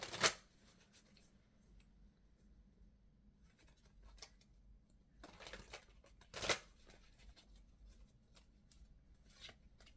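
Heart's Hidden Secrets oracle cards being shuffled by hand in a quiet room, soft riffling with two sharper snaps of the deck between quieter rustling, close and fairly faint.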